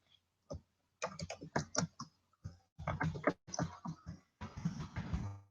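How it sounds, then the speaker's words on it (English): Fast typing on a computer keyboard, close and crisp, with irregular bursts of key clicks separated by short pauses. "Start typing."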